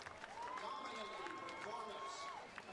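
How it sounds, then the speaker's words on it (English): Harness racing fans in the grandstand at a Delaware, Ohio track clap and cheer as a steady crowd wash, with a commentator talking over it. "Lots of clapping and cheering"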